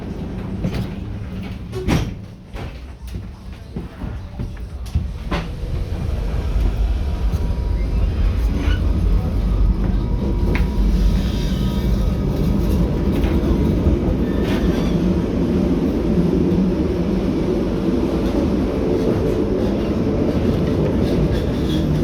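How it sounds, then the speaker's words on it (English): An underground tram in Antwerp, boarded at Sports Palace, rumbles along loud and close for most of the ride after a few door and mechanism clunks early on, a steady rolling roar with rail squeals above. "we want to see how it is to ride in a tram"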